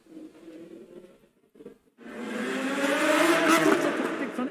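F1 Manager 22 race car engines roar in after a short stretch of quiet, low sounds, building into a loud, steady rising whine that holds for the last half of the clip.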